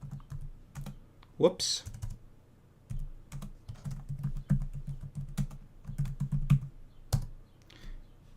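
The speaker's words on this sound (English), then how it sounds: "So I will just double click on it and type in the text I want." Text typed on a computer keyboard comes through as irregular bursts of close, crisp keystrokes with short pauses between them, and a person briefly speaks partway through.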